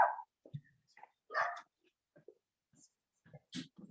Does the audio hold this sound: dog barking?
yes